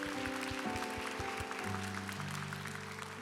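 A church congregation claps together in a steady, sustained round of applause, bright and continuous, with sustained organ or keyboard tones droning underneath.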